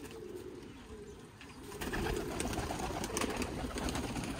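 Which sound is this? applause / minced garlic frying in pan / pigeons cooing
pigeons cooing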